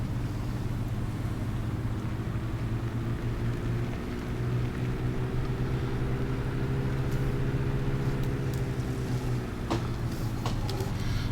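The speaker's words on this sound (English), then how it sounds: "And now we'll get back in the truck and head down to the" A truck drives along a road in Farming Simulator 17, its engine holding a steady low hum with layered harmonics that rise and fall slightly, joined by a few faint knocks near the end, with no talking.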